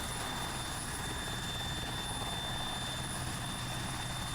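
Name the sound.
military helicopter in the video game Arma 3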